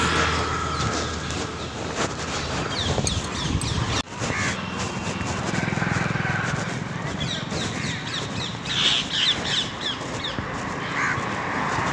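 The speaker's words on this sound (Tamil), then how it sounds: "ஒவ்வொரு பக்கம் ஒவ்வொரு பறவைகள்" Crows cawing repeatedly among other birds during an evening walk outdoors, with scattered calls at mixed distances over a steady background of ambient noise and distant rumble; no talking.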